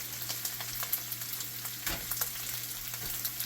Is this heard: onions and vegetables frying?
yes